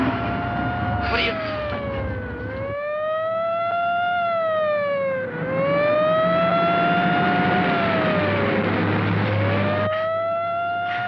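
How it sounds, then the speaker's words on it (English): An ambulance siren wails in long rising and falling sweeps, loud and close, passing steadily over a running car engine on a 1950s road. "An ambulance. A stinking, lousy ambulance."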